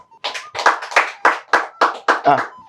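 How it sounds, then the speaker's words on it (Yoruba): A studio audience on a Yoruba-language TV game show claps in a steady rhythmic beat. Roughly eight loud, close, evenly spaced clap bursts, each with a short ringing decay. "Ló bá tán ẹ bá ń pàtẹ́wọ́ fún ọ."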